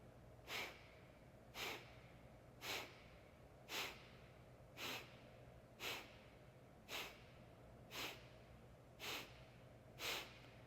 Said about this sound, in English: inhale to about 2/3 of the lung capacity and then begin Kapalabhati breath